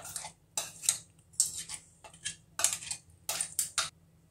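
Coarsely ground lentil paste is scraped from a grinder jar into a bowl, giving sharp metallic clinks and scrapes of a spoon against the container in irregular bursts, close and fairly quiet.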